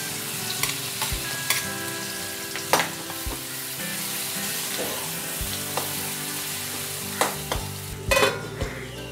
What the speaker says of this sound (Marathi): रंगासाठी हळद घालूया आणि कांदा घालून छान परतून घेऊया